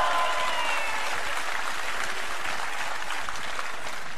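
Cabaret audience applauding steadily throughout, a dense, continuous wash of clapping at moderate volume with no talk over it.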